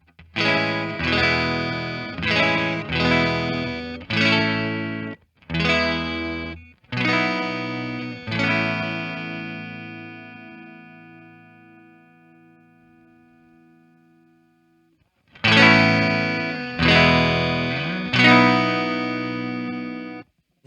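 Clean electric guitar through a preamp set clean at about unity volume plays a run of short, plucked chord stabs, then one chord rings out and fades before more strums resume.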